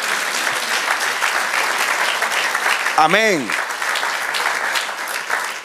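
Church congregation applauding during a sermon, a dense steady burst of clapping throughout, briefly interrupted midway by a single voice calling out over it.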